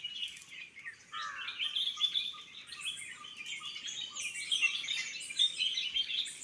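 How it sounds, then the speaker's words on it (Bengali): Small birds chirp and tweet in quick, bright bursts as they bathe in a small patch of water in a dry hilly jungle, fairly faint over a quiet background with no voices. "পাখিরা গা ভিজাচ্ছে, কত সুন্দর গা ভিজাচ্ছে তোমরা দেখো।"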